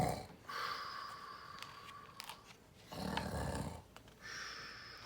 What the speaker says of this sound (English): the giant's head began to nod and he started to snore